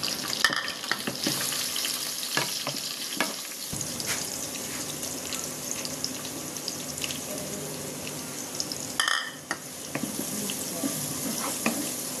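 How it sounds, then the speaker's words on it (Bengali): Taro leaves fry with dried fish, onion, green chili and garlic in a hot pan, a loud, constant sizzle and hiss broken by stirring scrapes, with a brief dip and burst near the end; no speech. "এখন এই যে কচু দিয়ে আমি ভাজি করব"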